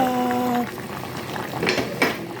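Pork sinigang soup bubbles in a pot, a short burst of boiling with the clink and scrape of a metal pot and utensils near the end.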